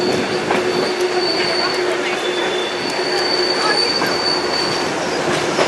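A Kuranda Scenic Railway train in Queensland, Australia rumbles steadily along the tracks with a continuous rolling roar, faint metallic wheel squeal threading through it, close and loud throughout.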